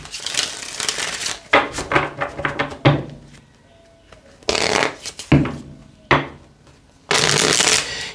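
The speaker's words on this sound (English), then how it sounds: "I'm going to give this 5 shuffles." Tarot cards being shuffled by hand in several separate bursts of riffling and slapping, close and crisp, with short quiet pauses between each shuffle and no talking.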